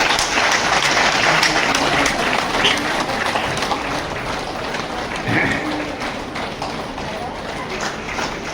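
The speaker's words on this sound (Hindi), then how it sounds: "थोड़ा ताली बजाते रहिए" Continuous crowd applause fills the hall at a women farmers' producer company AGM, steady and loud throughout with a slight dip midway, faint voices mixed in beneath the clapping.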